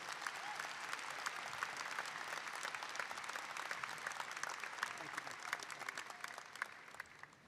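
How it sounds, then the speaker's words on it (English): Commencement audience at Murray State University applauding steadily for about seven seconds, a dense wash of many hands clapping in a large hall, holding even before thinning slightly at the end. "Please give Dr. Ted Brown a round of applause for his outstanding leadership"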